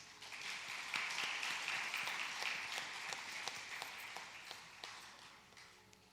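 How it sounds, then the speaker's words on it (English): Faint, distant audience applause after a classical Indian dance arangetram recital, a soft, even patter of many hands that slowly thins over about six seconds. "just a round of applause for her, please"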